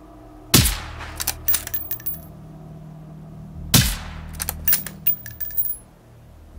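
Two sharp gunshots from the shooter game Generation Zero, each followed by scattered metallic clicks and clatter, with a quiet room tone between them.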